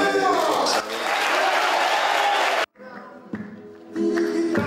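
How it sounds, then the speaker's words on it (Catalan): An audience of over 300 people, inmates and staff, applauding at a flamenco concert inside Palma prison, a dense sustained roar of clapping that cuts off abruptly, followed by music and voices. "Un públic entregat aplaudeix tots els seus moviments i la seva genialitat"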